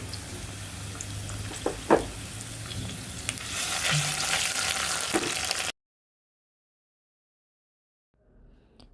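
Onion, ginger and garlic sizzle and fry in a pan for a pigeon curry, a steady close crackle with a few stirring knocks that cuts off abruptly, leaving near silence before faint noise returns.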